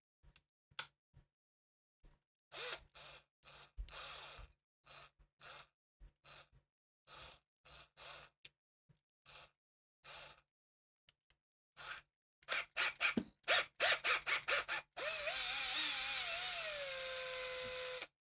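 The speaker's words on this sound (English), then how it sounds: "We need to start with the small drill bit" A small power drill with a small bit whirs in short, repeated bursts separated by silences, drilling a guide hole in a Hot Wheels die-cast car, then runs in a longer continuous stretch near the end.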